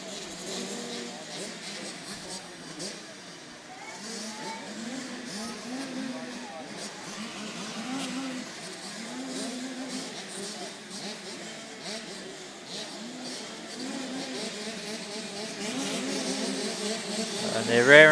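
KTM 85 motocross bikes revving at a club race start line, a dense buzzing chorus of small two-stroke engines rising and falling, louder toward the end, under a commentator's voice.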